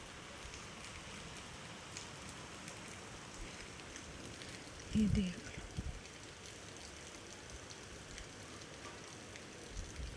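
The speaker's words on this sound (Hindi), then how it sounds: "बारिश" Rain falls in a soft, steady hiss with scattered drips. It stays faint throughout, with a brief voice speaking midway.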